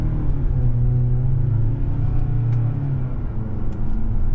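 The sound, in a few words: Mazda CX-70 PHEV engine in sport mode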